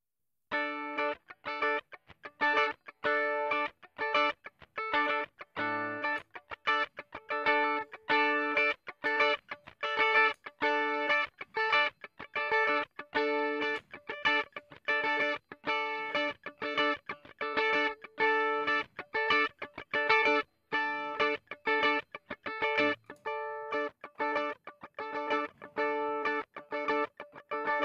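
Guitars run through a Pultec EQP-1A tube EQ plugin play a steady, heavily distorted chugging riff with tight repeated palm-muted stabs, loud and dense throughout with brief gaps near the middle and end.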